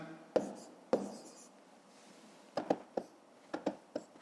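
Pen strokes scratch across paper while numbers are written out by hand for long division in a maths lesson, faint and close, coming in short separate bursts with pauses between them.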